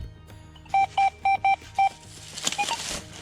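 A metal detector gives a run of five short electronic beeps at a steady mid pitch, evenly spaced, followed by rustling and digging noise.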